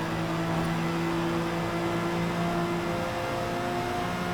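A race car engine drones steadily in Forza Motorsport as the car dives into turn 1, a constant tonal hum without clear revving peaks, alone with no voices.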